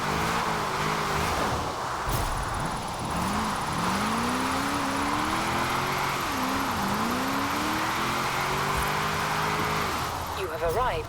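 A 1998 Nissan Silvia K's Aero with an AWD drift tune in Forza Horizon 4 revs hard in third gear, its engine note sweeping up and dipping repeatedly under continuous commentary.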